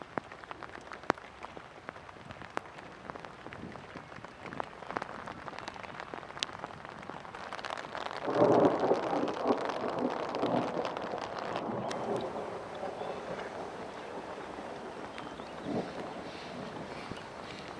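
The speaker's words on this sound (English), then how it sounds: "it was a good storm with some thunder and lightning" Spring storm at Big Bear with rain and thunder: steady rain patter with scattered drip clicks, then a low rumbling swell of thunder in the middle before the rain settles back.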